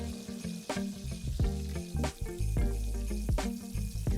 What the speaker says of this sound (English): So I'm going to cover this and cook it on a medium to low flame.